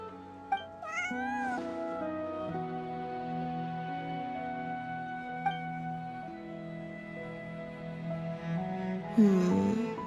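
Cat meowing inside the video game Genshin Impact, a series of high, wavering meows over a steady game music bed, with a louder, drawn-out meow near the end.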